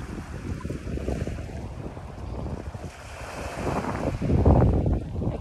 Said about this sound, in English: just kind of hear the sounds of the water